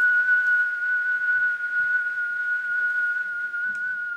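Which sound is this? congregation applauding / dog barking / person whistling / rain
person whistling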